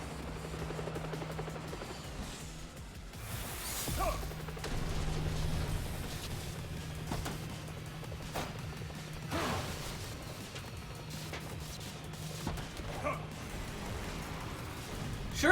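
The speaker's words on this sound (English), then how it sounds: "Sure is lucky that that helicopter just exploded, like, on its own, for no reason." Helicopter in the Shadow Generations game, a steady rotor drone with mechanical clatter, crashing bursts and a sharp blast near the end, moderately loud with scattered game sounds.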